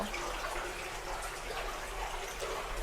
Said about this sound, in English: as you can hear, you can still hear like the running water